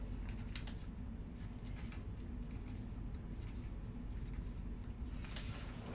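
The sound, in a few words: drawing on folded paper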